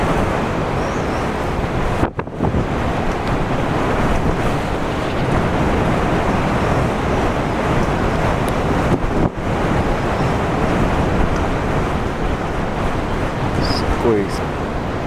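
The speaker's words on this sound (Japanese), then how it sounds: "波がすごいですよ。" Strong typhoon wind roars steadily across Cape Erimo as large waves crash on the whitened sea, recorded from a kelp hut with wind speeds above 20 metres per second; constant loud buffeting with brief microphone dropouts.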